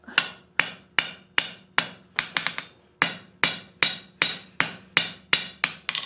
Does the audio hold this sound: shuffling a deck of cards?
no